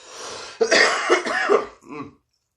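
A harsh, raspy cough after a bong hit of White Widow cannabis, with a throaty rattle, a couple of rough bursts close up, ending in a short wheeze before silence.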